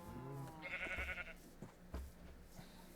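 Sheep bleating in the video game Minecraft, a couple of wavering bleats near the start among soft clicks and thumps of in-game movement, fairly quiet and close.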